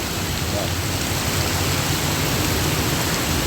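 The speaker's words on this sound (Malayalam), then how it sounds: "നല്ല മഴ പറഞ്ഞാൽ പെരും മഴ." Heavy monsoon rain pouring down in Kerala, a dense, loud and steady roar of water with no breaks.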